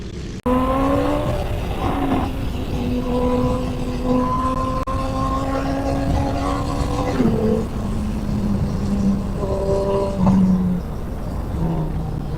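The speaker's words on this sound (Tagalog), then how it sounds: "maingay ng motor at malakas yung exhaust nitong motor" A loud motorcycle engine drones steadily close by, its exhaust note rising and falling as it shifts through gears.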